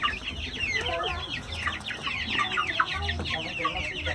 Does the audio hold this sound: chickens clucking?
yes